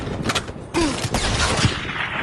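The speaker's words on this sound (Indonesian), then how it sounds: "Peluru berdesing, artileri meledak." Omaha Beach war film battle scene with bursts of gunfire and booming artillery explosions, dense and loud, continuous rapid cracks over a rumbling roar.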